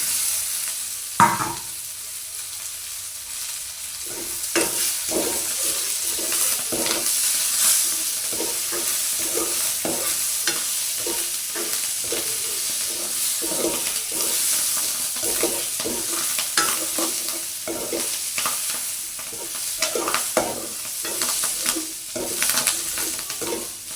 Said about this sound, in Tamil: வெங்காயம் பச்சை மிளகாயம் அப்படியே வதங்கி ஒரு அரைக்கட்டம் வரைக்குள்ளே நாங்கள் இந்த கருவேப்பமிலையும் ரம்பையிலையும் வந்து சேர்த்து அப்படியே கூடுவோம்